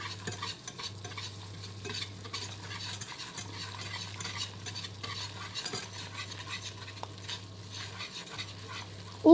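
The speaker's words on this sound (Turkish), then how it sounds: "Şöyle güzelce kokusu çıkana kadar unumu kavuruyorum." Flour roasts in oil for béchamel sauce while a spatula scrapes and stirs it in a quiet, soft rhythm over a faint steady hum, ending in a louder clank.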